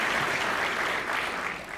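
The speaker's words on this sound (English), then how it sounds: "why don't we give all these candidates a round of applause" An audience at a political forum for state race candidates applauds, a dense, steady wash of many hands clapping that carries on throughout without pause.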